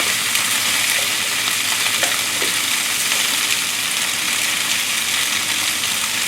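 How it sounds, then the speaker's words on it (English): Tofu and vegetables sizzling in an oiled pan during a stir-fry, a steady, close frying hiss with a few faint clicks of the utensil and no voices. "Give them a quick stir here."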